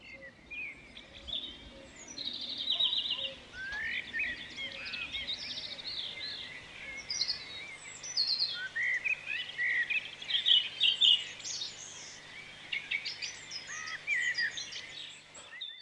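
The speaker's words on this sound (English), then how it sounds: "it's fascinating to hear the wonderful bird song" Many birds chirp and sing in overlapping bright calls, a continuous chorus of tweets and trills heard outdoors at moderate distance, with no voices.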